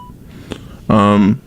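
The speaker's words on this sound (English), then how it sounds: "Yeah, that was my phone." A mobile phone gives off a loud electronic beep of about half a second, preceded by a faint short click, cutting briefly into a talk-show conversation.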